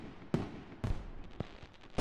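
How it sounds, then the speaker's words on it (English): Fireworks go off in the video game GTA 5, several sharp bangs and cracks spaced irregularly across a couple of seconds, each ringing out briefly over a low background rumble. "I'm not staying on to listen to fireworks."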